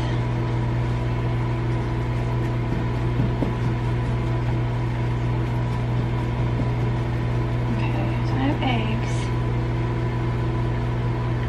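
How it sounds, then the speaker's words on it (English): A Hamilton Beach microwave oven runs with a steady, even hum and drone throughout, a few faint clinks and brief sounds rising briefly near the end. "Part of it's gonna be burnt because of this freaking microwave"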